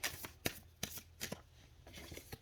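Tarot-style cards being shuffled and pulled, a soft riffling with several sharper snaps and flicks spaced through the clip, close and quiet, with no talk.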